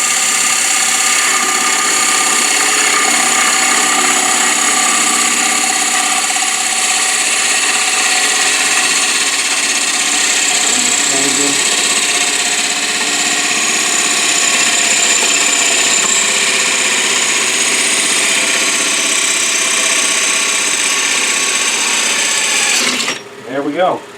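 A wood lathe turns a wooden picture frame, giving a steady, loud whirring drone with a bright, sustained high whine and a faint scraping tone that runs continuously, then cuts off abruptly at the end.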